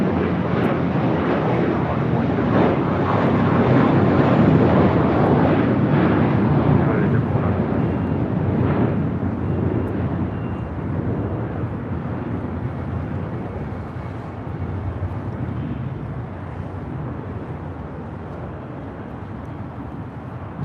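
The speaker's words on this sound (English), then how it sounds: "777 making that left-hand turn onto taxiway Bravo" A Boeing 777 taxiing and turning left onto a taxiway at LAX sends out a steady, loud jet rumble that slowly fades, with gusting wind buffeting the microphone.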